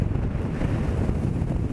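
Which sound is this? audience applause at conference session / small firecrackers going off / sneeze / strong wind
strong wind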